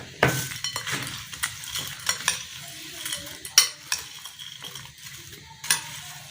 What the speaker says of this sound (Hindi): अभी इनको मिक्स करते हैं।